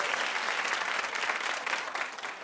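A studio audience claps on a talk show, a steady dense wash of applause filling the whole moment without any voices over it.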